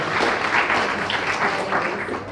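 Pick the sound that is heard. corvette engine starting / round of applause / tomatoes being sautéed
round of applause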